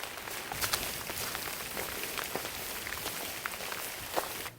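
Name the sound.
rain while backpacking in forest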